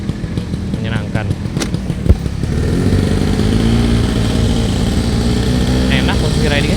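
A Yamaha Nouvo 110 cc automatic scooter hums steadily as it is ridden, its engine drone and wind rush close and constant, while a rider talks over it throughout.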